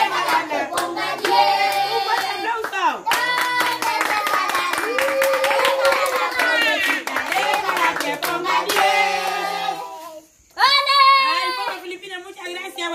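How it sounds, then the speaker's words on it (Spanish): Crowd claps loudly at a lively Spanish-language outdoor gathering with a raffle or roulette game, sustained rhythmic applause with people talking and a short pause before it resumes. "Un fuerte aplauso."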